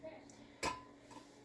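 A big old cast iron pot gives a single dull clunk as it is handled, one brief close knock against a quiet room background.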